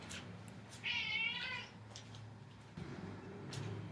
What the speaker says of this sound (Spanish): el gato quería comida